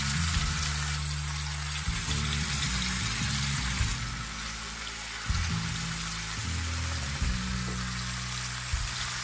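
Chicken malai tikka skewers sizzling in a hot pan, a steady fizzing crackle close by, with low clattering of the skewers and pan underneath and no talking.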